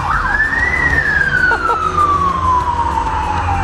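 Sirens of three police motorbikes on a busy road, a loud wailing tone rising and then falling steadily as they pass close by, over constant traffic rumble.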